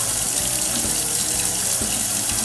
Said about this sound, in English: first you wanna scrub your potato and rinse under cold water